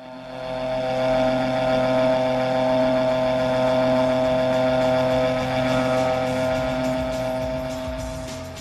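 A STOL ski plane's engine throttles up for takeoff from a snowy makeshift airstrip, a loud, steady droning roar that swells quickly, holds strong and then slowly fades as the plane moves away.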